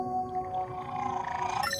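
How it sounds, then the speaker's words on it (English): An orca calls underwater in the game Beyond Blue, with long tonal whistles that slide and waver, ending in a brighter rising squeal, all clear and without any talk. "it's an orca."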